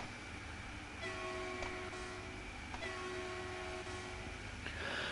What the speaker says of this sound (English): You might think the trains don't sound so loud tonight